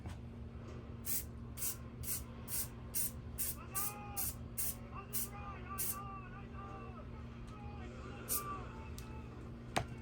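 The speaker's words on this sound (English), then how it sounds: "So I'll just spray over these garbage boxes here I've got, and just light." Repeated short hissing bursts of a spray paint can over cardboard boxes, one after another in quick succession, over a steady low hum with faint voices in the background.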